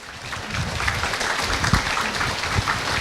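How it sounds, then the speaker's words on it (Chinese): Audience applause for Khenpo Sodargye at a youth Buddhist symposium Q&A, a steady dense wash of clapping that holds evenly throughout with a few louder claps standing out. "让我们再一次以掌声感谢堪布"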